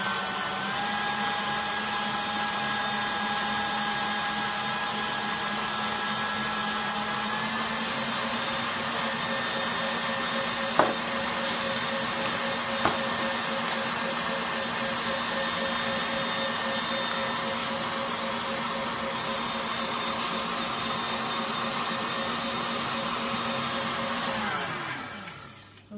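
An electric mixer running on high whips icing sugar, a steady loud motor whine that holds for the whole stretch with two faint clicks midway, then spins down at the end.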